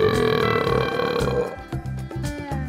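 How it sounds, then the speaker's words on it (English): A cartoon-style burp sound effect in a children's toy play scene, one long drawn-out belch followed by shorter choppy burps, loud and close with no talking. "So, this means I ate you all. Yes, so let's burp."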